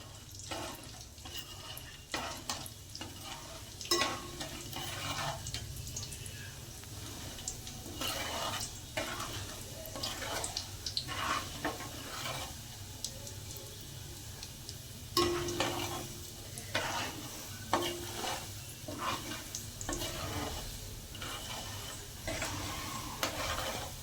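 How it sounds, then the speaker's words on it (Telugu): Tempering seeds crackle and sizzle in hot oil for a bitter gourd spice dish, a steady frying hiss broken by frequent stirring clatters and scrapes in the pan. "ఇప్పుడు వేగిన తర్వాత మనం ఈ తాలింపు గింజల్ని అందులో వేసేద్దాము"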